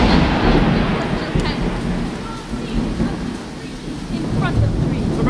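A stage sound effect of a thunderstorm plays loudly and continuously, with heavy rain hissing throughout and deep rumbles of thunder rolling underneath, during a school drama club production.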